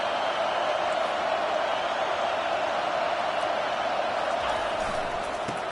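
A packed college football stadium crowd roars continuously at first and goal, a dense, sustained wall of cheering noise with no letup.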